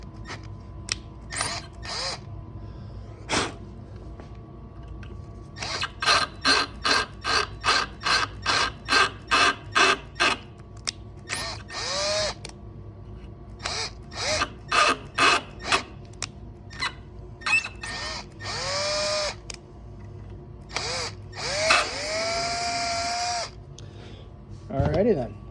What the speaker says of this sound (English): let's get the drilling